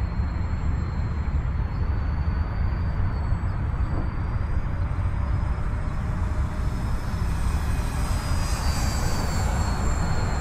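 An E-Flite EC-1500 model airplane's engine drones loudly and continuously with a thin high whine that shifts pitch slightly as it passes overhead.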